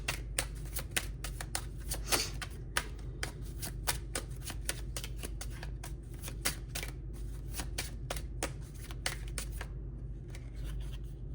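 Tarot cards are shuffled quickly and repeatedly for a pick-a-pile reading, producing rapid crisp riffling clicks close to the microphone over a quiet room hum.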